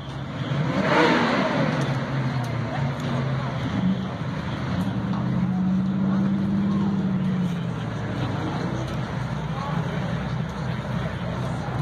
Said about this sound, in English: Mustang 5-0 left lane. Big Swayley Camaro here in the right lane.